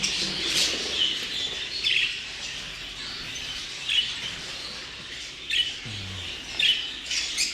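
Budgerigars chirping and squawking at a Swiss top exhibition, a busy flock of bright, scratchy calls rising in repeated bursts over a constant chattering background.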